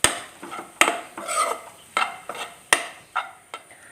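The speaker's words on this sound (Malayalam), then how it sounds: "ഇതൊന്ന് നമുക്കൊന്ന് മിക്സ് ചെയ്തെടുക്കാം" Egg cone filling being mixed with a pinch of black pepper powder, heard as a series of sharp clinks and scrapes of a utensil against a bowl in irregular bursts, close and moderately loud with no talking.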